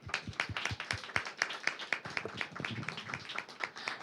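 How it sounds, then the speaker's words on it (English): A panel audience at a climate, housing and health session gives a faint, scattered round of applause for the graphic designers. The claps are quick and uneven, with no one speaking. "please join me in giving a round of applause for the graphic designers"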